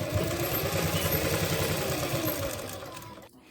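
A sewing machine runs steadily, stitching pintucks into a pant, with a fast, even mechanical whir and rapid needle rhythm, close by and loud, easing off toward the end.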